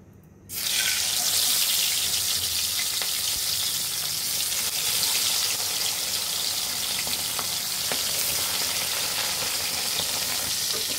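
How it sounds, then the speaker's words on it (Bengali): Bata fish pieces hitting hot oil in a wok for mustard bata fish, a sudden loud sizzle after a brief quiet start, then steady, dense crackling frying throughout. "আমরা এখন মাছগুলো ভেজে নিব।"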